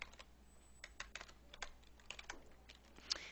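Quick bursts of keystrokes on a computer keyboard entering a short Linux change-directory command, soft and close with a faint background hum.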